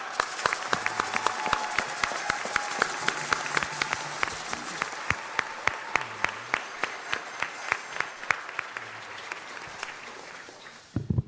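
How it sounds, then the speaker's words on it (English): A large audience claps continuously at a Los Angeles city council meeting, individual sharp claps standing out over a steady wash of applause that tapers slightly near the end. "Let's give them a round of applause."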